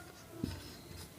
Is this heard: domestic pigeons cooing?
no